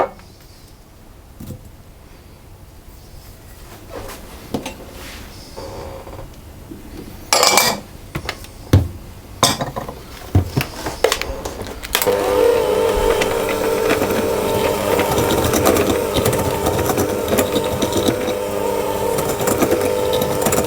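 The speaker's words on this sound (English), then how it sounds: "I'm going to cream the butter and the sugar together" Butter and sugar being creamed together for wild blueberry muffin batter, first some clinks and knocks of a bowl and utensils, then a steady, loud electric mixer whir that runs continuously to the end, with no talking.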